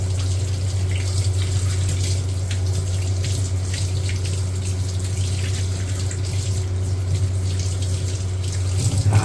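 Tap water runs in a steady, loud stream while brass cymbals are washed under it. A low hum continues throughout.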